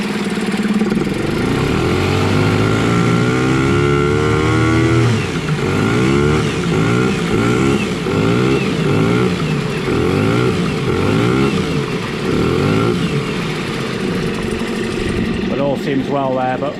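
A Yamaha Malta 3hp (6L5) outboard, freshly serviced with a new water pump, runs in gear with a loud, steady buzzing drone and rhythmic throttle surges, then settles before tailing off at the end.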